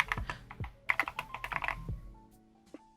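Rapid keystrokes on a computer keyboard, a dense burst of clicky taps close to the mic that thins out to a few isolated presses and then quiet.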